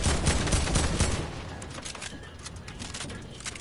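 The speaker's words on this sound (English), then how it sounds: "He was shooting it." Gunfire erupts in the video game Fortnite, a loud dense burst of rapid shots up front that thins into scattered fainter firing.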